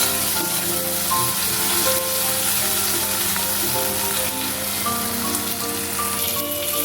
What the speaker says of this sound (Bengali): মশলাটা একটু ভেজে নিয়ে